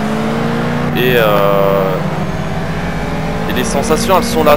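A racing car's engine whines and shifts pitch inside the Project Cars racing game, a steady close drone under someone speaking French.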